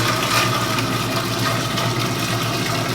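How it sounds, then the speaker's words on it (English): Cold, refrigerated ginger beer is poured into a keg, a steady splashing and gushing of liquid with a low continuous rumble throughout and no voices. "I'm just going to pour it into the keg and probably spill it all over the place."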